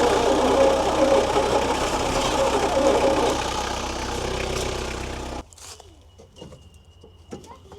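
A Bedford J Series truck engine cranks over with a rough rhythmic churning for several seconds, then cuts out, leaving quiet with a voice speaking.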